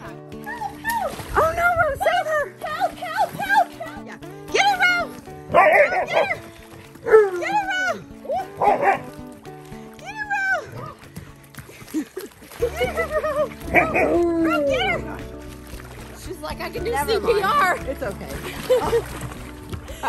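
A husky in the water beside a float whines and yips in rising, pleading bursts, with splashing and a person's voice mixed in at times.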